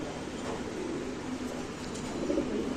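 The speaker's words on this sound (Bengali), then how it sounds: "অলরেডি কবুতর ডিম নিয়ে বসে রয়েছে" Pigeons, mundian breed kept by a seller, coo steadily in a low rumbling drone that persists through the stretch, with a slightly louder swell near the end and faint background noise.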